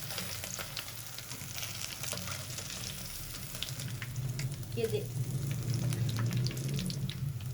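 Finger fish frying in a home kitchen pan, a steady crackling sizzle throughout that grows slightly louder and busier toward the end, with no talking.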